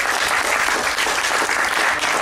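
Audience applauding the speakers after a talk, a dense, steady wash of clapping that carries loud and unbroken throughout.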